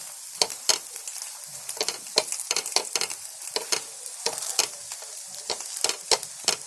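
Potato flatbread roasts in ghee on a hot pan, giving a soft continuous sizzle with sharp crackles and scraping taps at a quick, uneven rhythm, close and clear with no talking.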